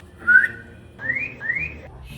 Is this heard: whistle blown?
yes